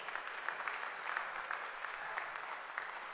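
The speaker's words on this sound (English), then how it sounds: "Give yourselves a round of applause." Faint, steady audience applause at a US Open racquetball singles final, a dense patter of clapping that holds evenly throughout without any clear voices.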